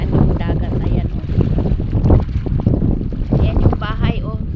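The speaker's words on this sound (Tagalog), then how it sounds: "Sobra hangin mga guys." Strong wind gusting at the seaside during high tide, roaring steadily against the microphone with water movement underneath and someone talking over it throughout.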